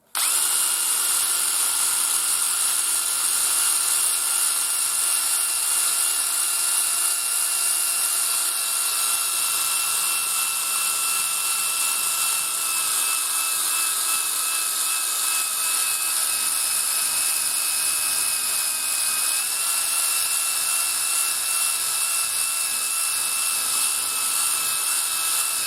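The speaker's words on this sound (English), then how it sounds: "Now you just want to go over it with this buffing wheel." A buffing wheel polishes a Nylon 66 rifle stock, giving a loud, steady high-pitched whine that holds continuously throughout with a slight shift in pitch near the end, and no talking.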